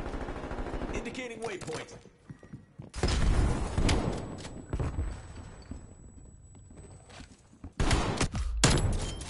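Shotgun blasts in the video game Call of Duty Cold War, a few heavy booming shots in bursts with game voice lines between them.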